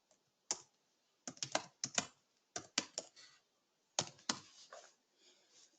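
Java code is typed on a computer keyboard in short, irregular bursts of crisp, close keystrokes separated by pauses, with no voices.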